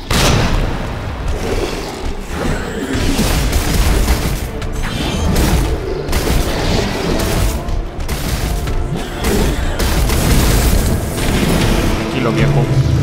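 Grenade explosions in the Resident Evil 2 Remake, a loud run of booming blasts and crashing impacts during a boss fight, with a voice talking over the din.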